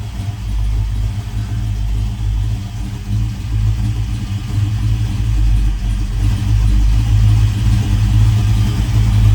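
A 1985 Chevy C10 engine idling steadily with the foot off the gas, a loud, close, even low rumble that holds without revving.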